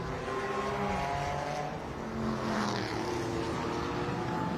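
Restored vintage race cars, among them a small BMW, roar around a road circuit at a race meeting, several engines overlapping in a dense continuous drone that swells as cars pass.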